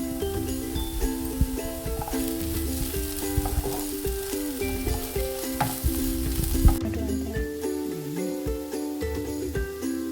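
Spices and curry leaves stirred in hot oil in a pan, with a steady close sizzle and frequent scraping stir strokes over about ten seconds, no talking.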